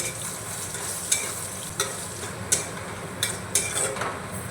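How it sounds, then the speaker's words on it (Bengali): Fried onions with dried red chillies are stirred in a pan, a continuous sizzle broken by five or six sharp scrapes and knocks of the spatula against the pan, close and clear. "শুকনো লঙ্কাটা দিয়েও আমি নাড়িয়ে নিচ্ছি"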